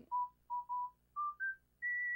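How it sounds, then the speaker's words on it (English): Whistled melody from the Animal Crossing: New Horizons video game, six clear tonal notes rising in pitch across the clip, the last one held, each note a distinct pure whistle over a quiet background. "This whistling is getting me nostalgic"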